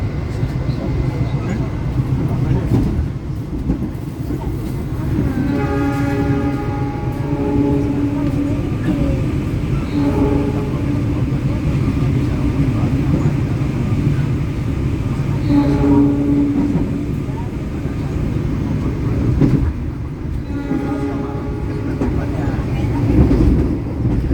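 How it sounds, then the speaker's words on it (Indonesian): The Jayabaya train rumbles steadily as it runs through Wonokromo station without stopping, with several sustained horn blasts sounding over the loud rolling noise. "Melintas langsung stasiun Wonokromo."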